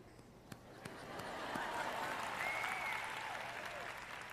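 Audience applause during a church sermon, a steady broad wash of clapping that swells after the first second and holds at moderate level through the end, with no talk over it.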